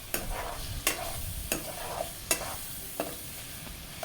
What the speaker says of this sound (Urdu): چکن ہمیں 2 سے 3 منٹ تک بھونتے رہنا ہے۔